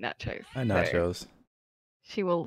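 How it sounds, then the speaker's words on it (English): A pet cat meows loudly and nearby in drawn-out calls, with a person talking over and around the meows. "meow throughout this, I'm afraid."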